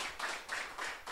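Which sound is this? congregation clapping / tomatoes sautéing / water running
congregation clapping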